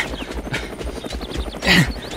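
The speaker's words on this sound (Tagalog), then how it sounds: "Bumaban ti helikopter." A descending helicopter makes a rhythmic low thumping, steady and mid-distance, before a brief louder burst near the end.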